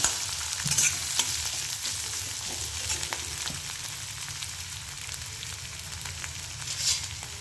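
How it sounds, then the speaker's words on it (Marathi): Potatoes with crushed cumin and chili sauté in a pan for sabudana khichdi, a steady close sizzle with intermittent scraping stirs of a spoon throughout. "मिरची आणि जिरं बारीक करून घातले, थोडी मिरची असते घातली, बटाटे घातले, परतणार आहे"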